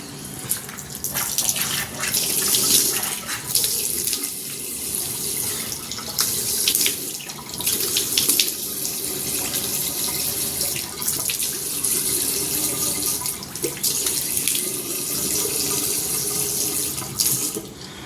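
A tap runs steadily into a sink during face washing, with continuous splashing and gurgling water and occasional surges and interruptions as hands move through the stream, close and alone without talking.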